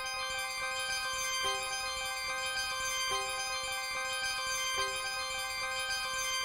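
High synth notes from the Analog Lab Facade preset, sustained bell-like tones ringing steadily with soft repeated accents and a low blip every couple of seconds, alone without talk.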